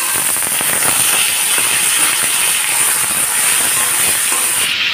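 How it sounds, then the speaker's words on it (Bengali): Chickpeas frying in oil in a pan for a vegetarian kochu shak dish, a loud, dense crackling sizzle with continuous popping spatter that holds steady throughout. "ছোলাগুলোকে ভাজা হয়ে গেছে।"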